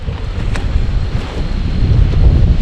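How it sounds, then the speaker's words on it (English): Strong, constant wind roars against a taut solo camping tent at a state park near Sisseton, South Dakota, loud and close with deep rumbling buffeting and no voices. "This is the most wind I've ever had this tent in."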